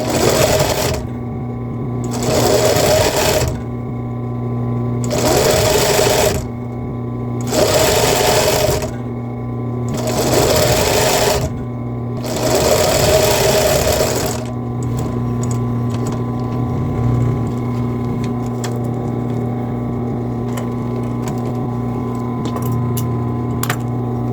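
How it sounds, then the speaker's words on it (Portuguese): A sewing machine stitches elastic onto a bra in six loud, regular bursts of rapid whirring, each a second or two long with short gaps, then the motor hums quietly with faint clicks. "Aí você nunca para de costurar com a tua máquina."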